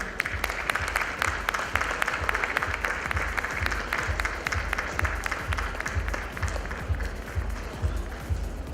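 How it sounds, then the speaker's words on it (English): Large audience applauding dignitaries at a Netflix product talk, loud continuous clapping with a rapid, rhythmic pulse running through the whole stretch. "let's give them a huge round of applause"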